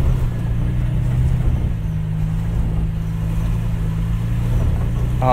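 A 2022 Toyota Tacoma TRD Pro grinds through thick mud, its engine holding a steady low drone with a slight rise in pitch partway through, loud and close with no talk.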